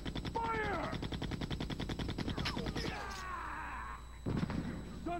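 Rapid bursts of gunfire in the Resident Evil 2 video game, a dense rattling volley of repeated shots with sharp cracks, loud and close, mixed with game voices and creature noises.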